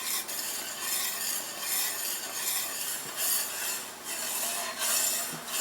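Blackberry jelly at a rolling boil in a pot: a constant bubbling, sizzling rush with soft scraping, swelling and easing in waves, close up and with nobody talking.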